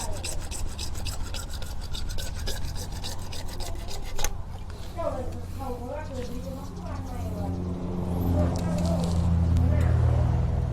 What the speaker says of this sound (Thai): แล้วก็ใช้ใบเลื่อยนะครับ เลื่อยตัดไปเลยนะครับ